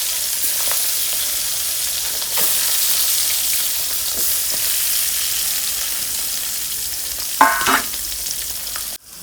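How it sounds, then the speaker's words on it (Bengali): Tengra fish frying in a pan of bubbling oil, a steady close sizzle with scattered crackles, a brief stirring scrape near the end, no talking. "যেভাবে ফুটতেছে মাছগুলো"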